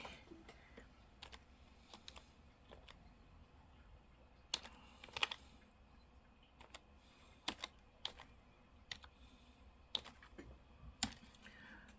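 Keys clack on a computer keyboard in bursts of sharp, close clicks, with scattered single taps and short runs across a quiet room while someone enters a blood sugar reading.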